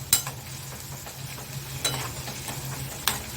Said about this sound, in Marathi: हा टोमॅटो आपण याच्यामध्ये व्यवस्थित परतवून घेणार आहोत।